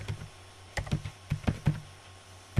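A computer keyboard being typed on up close, a quick irregular burst of clicky key taps with short pauses, entering a command to start a hosted WLAN network.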